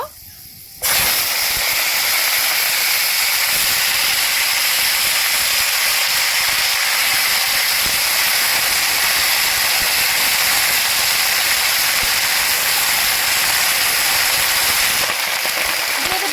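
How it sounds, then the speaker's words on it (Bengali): Mixed winter vegetables hit a hot pan with black cumin seeds, setting off a loud, steady sizzle that starts abruptly and holds unbroken for about fifteen seconds before cutting off. "এবার সবজিগুলো ছেড়ে দেব"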